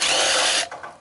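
A power drill whirs loudly at close range on a generator for about half a second, then spins down and cuts out.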